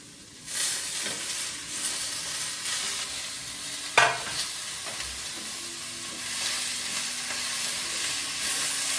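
Tomatoes drop into a hot pan and sauté for a paneer butter masala, a sudden loud sizzle followed by steady hissing and occasional stirring scrapes, close up with no talking.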